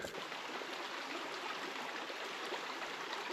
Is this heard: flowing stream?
yes